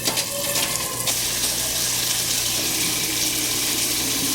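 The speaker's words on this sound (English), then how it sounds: "I'm gonna put water in my pot right now for the noodles." Tap water runs steadily into a cooking pot being filled for spaghetti noodles in a home kitchen, a continuous close rushing hiss with no talking.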